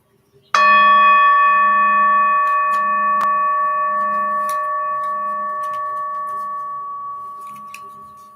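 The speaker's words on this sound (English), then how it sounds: "dropping the cards in the big bell." Cards dropped into a big bell set off one sharp strike that rings out with a clear sustained metallic tone, slowly fading over several seconds with a faint beating wobble.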